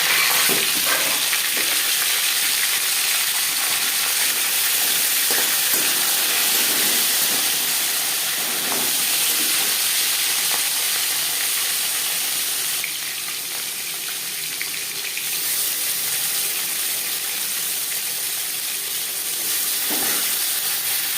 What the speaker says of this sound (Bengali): সর্ষার তেল গরম করে নিয়েছি দিয়ে দেব মাছের মাথা